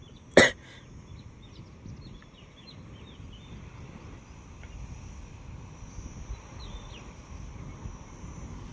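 A person with a cold gives a single sharp, close cough near the start, and a faint outdoor ambience with distant hum continues afterward.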